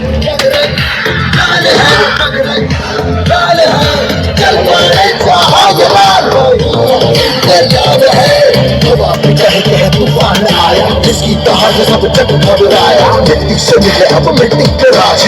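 Crowd noise at the launch of a new Ashwamedh tractor at a Murlidhar tractor dealership in Jam Khambhalia, a dense, steady roar of clapping and cheering from many people that lasts throughout at close, loud level.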